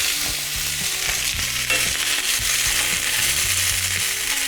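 Carrots fry in a hot pan, giving a steady, dense sizzle that carries on throughout with no one talking, while soft scraping and stirring noises come and go underneath.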